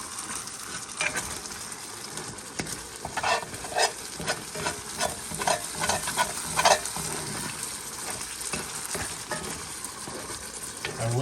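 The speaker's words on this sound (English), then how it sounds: "Just gonna do a little basting." Chicken wings for Hungarian paprikas simmer in a pan while a utensil scrapes and spoons the sauce over them in repeated clinking strokes, set against a steady close sizzle, with no voices.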